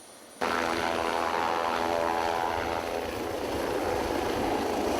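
A loud helicopter engine drone kicks in after a brief quiet moment and holds steady, with a rotor rumble continuing throughout, as the helicopter flies overhead surveying a rum fire in Jamaica.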